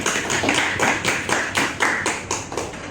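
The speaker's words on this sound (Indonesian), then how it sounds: "Tepuk tangan dulu untuk Jara." A small classroom group claps for a student after a lesson, each clap sharp and clearly separate in a quick, slightly uneven rhythm, close and fairly loud, with no talk.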